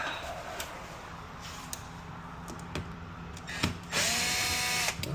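Short bursts of a power screwdriver backing a screw out of a Munchkin boiler part, with brief whirs and clicks over a low steady hum, ending in a louder sustained spin.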